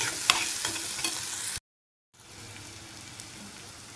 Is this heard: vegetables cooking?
yes